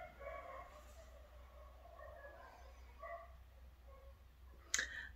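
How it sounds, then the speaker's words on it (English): Several dogs barking somewhere in a home, faint and intermittent, with scattered short yaps over a low steady background hum and one sharper clatter near the end. "if you can hear the dogs barking"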